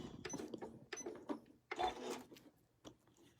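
A quilting sewing machine stitches a professional quality tie off in a quilt margin, quiet irregular bursts of mechanical stitching with brief pauses between them, faint and close.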